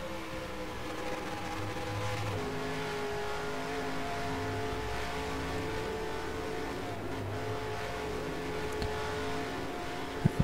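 A race car engine in the NASCAR Racing 2003 sim holds a steady, droning rev after a downshift, with layered engine tones continuous throughout at moderate loudness and a brief click at the very end.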